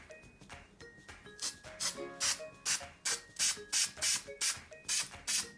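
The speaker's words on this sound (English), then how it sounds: "Spray the glue from a distance so that by the time it reaches the tree, it is tacky enough for the clumps to stick on it." Spray glue misted from a distance onto a model wire-and-clump tree, heard as a string of short, regular hissing bursts about every third of a second, close and moderately loud, with faint tonal background sounds underneath.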